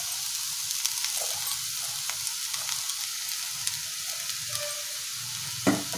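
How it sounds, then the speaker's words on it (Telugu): Washed poha stirred into masala-spiced mixed vegetables frying in a pan, a steady close sizzle with occasional soft scraping of the spoon and no voices. "శుభ్రంగా కడిపెట్టుకున్నటువంటి అటుకులు వేసుకొని మిక్స్ చేసుకోవాలి"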